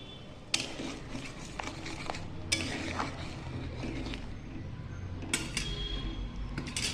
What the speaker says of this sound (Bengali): আর এর মধ্যে আমি এখন দিয়ে দিচ্ছি ভেজে রাখা গোবিন্দভোগ চালগুলো